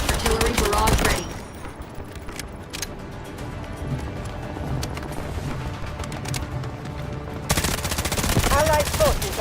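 An artillery barrage in the Delta Force video game: heavy bursts open and close the passage, with rapid volleys of gunfire crackling through a busier, steadier middle stretch of combat noise.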